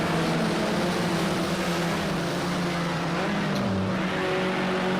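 Racing car engines in Project CARS 2 drone loudly and continuously near a hairpin, one engine note dipping and rising as it brakes and accelerates.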